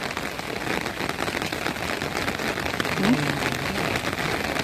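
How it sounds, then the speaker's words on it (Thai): Steady rain patters on a surface throughout, a dense even hiss with no clear pauses. "ปีนี้ฝนตกดีพี่น้องเอ้ย"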